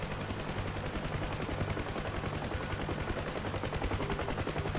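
Rapid, steady rattling bursts of fire from a UH-1H Huey helicopter in the DCS combat flight simulator, continuous and close for the whole stretch, with no voices over it.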